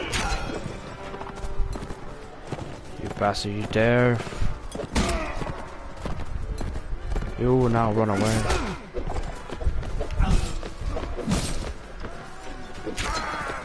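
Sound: horse galloping in video game Mount and Blade Warband

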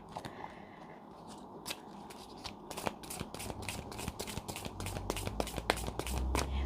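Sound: tarot cards being shuffled

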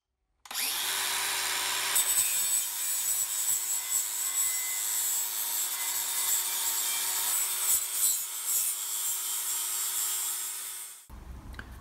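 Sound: grinding back welds on metal belt cover

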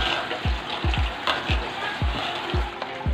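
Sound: sautéing spice paste in a pan

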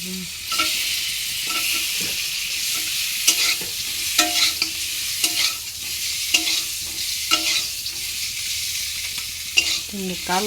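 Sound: frying in ghee

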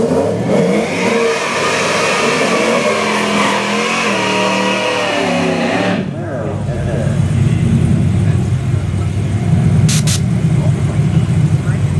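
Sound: race car engine revving

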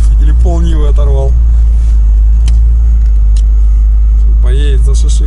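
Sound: Lada Niva off-road car driving

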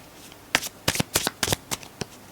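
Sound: tarot cards being shuffled

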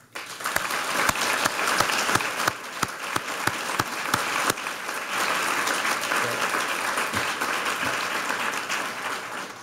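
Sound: audience applause

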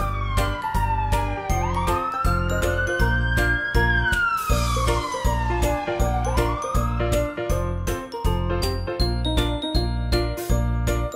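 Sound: ambulance siren

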